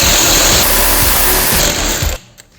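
A Dnipro-M DTW 202 BC cordless impact wrench works loose a very stubborn wheel nut in a car service garage, hammering loudly and continuously for about two seconds before stopping abruptly.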